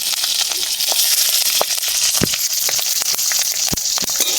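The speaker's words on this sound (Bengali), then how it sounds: "লঙ্কাটা আর কালো জিরে ভাজা হয়ে গেছে" Nigella seeds and slit green chillies fry in hot oil, giving a steady close sizzling hiss dotted with sharp little crackles and pops throughout.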